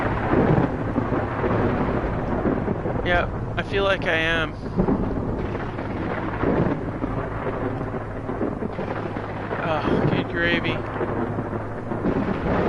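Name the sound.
thunderstorm with thunder and rain in a video game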